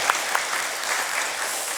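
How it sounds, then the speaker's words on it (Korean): Church congregation at a Sunday service breaking into steady applause, dense crowd clapping heard alone for a brief moment. "이런 하나님께 영광에 한번 박수 돌립시다"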